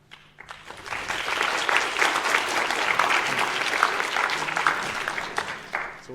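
A conference audience at an academic talk on human behaviour and evolution breaks into sustained applause, a dense wash of many hands clapping that swells quickly after a quiet start and then gradually thins out.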